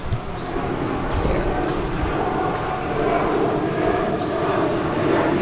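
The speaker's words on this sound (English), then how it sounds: "You like the airplanes? I love the airplanes." A fixed-wing airplane drones steadily overhead above a home garden, a continuous broad engine roar holding at moderate loudness for the whole stretch with no talk over it.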